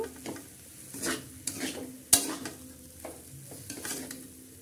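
Spiced mashed potato filling for chops is stirred in a pan, with soft repeated spatula scrapes and one sharp metal clink over a faint, low sizzle, close and quiet.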